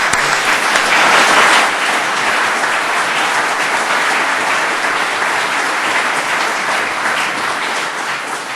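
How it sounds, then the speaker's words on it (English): Sustained applause from an audience at a Law Day celebration, honoring New York judges; dense, steady clapping that swells briefly near the start and then holds evenly, slightly fading toward the end. "I think they deserve a round of applause"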